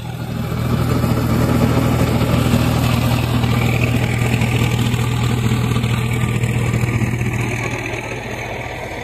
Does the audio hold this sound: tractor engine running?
yes